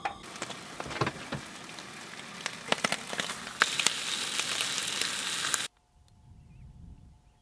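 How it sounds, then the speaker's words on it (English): Bacon and eggs fry in a pan at an outdoor campsite, a close, steady spitting sizzle like heavy rain with scattered pops, which cuts off abruptly near the end to leave faint background hum. "Just gonna cook up some bacon and eggs and then we'll hit the tracks"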